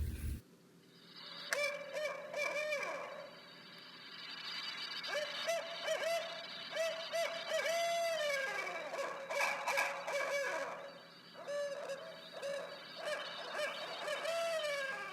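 A barred owl gives a long series of hoots, rising and falling calls that repeat and overlap, loud and close with brief pauses between phrases.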